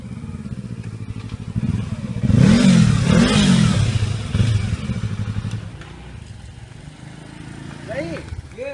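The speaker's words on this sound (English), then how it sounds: "Did you know your motorcycle produce a loud sound?" A motorcycle engine runs close by and swells into a loud rev in the middle, then eases back to a rough idle with a clattering note, and voices can be heard over it.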